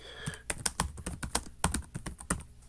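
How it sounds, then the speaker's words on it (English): Keys clack on a computer keyboard in quick, uneven bursts of close, crisp taps with short pauses between words, no talking over them. "So I can start typing."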